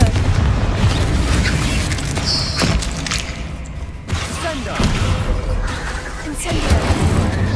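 Confringo spell blasts in Hogwarts Legacy, several loud booming explosive bursts with thuds and crackling debris, set against game effects and a voice casting spells.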